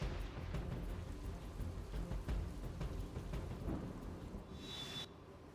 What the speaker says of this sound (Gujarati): સુરતની અંદર વરસાદનું આગમન થઈ ચૂક્યું છે